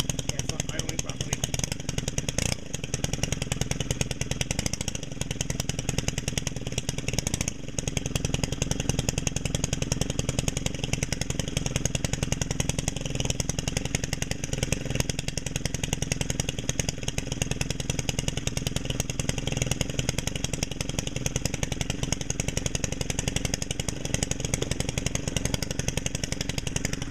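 A small two-stroke trimmer or blower engine runs steadily close by, rough and buzzing, not idling properly and held at throttle, a continuous loud drone with slight unevenness throughout.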